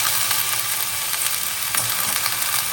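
Cluster beans stir-frying in hot oil with onions, a steady close sizzle and crackle that holds evenly throughout with no voices.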